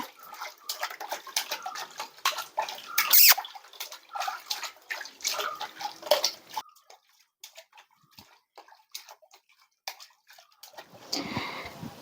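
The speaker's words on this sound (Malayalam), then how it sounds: "ആരാടെ വെള്ളത്തിൽ കളിക്കണേ?" Child splashing and playing in bath water, with irregular bursts of splashes and drips close by, then a quieter stretch before a short run of water near the end.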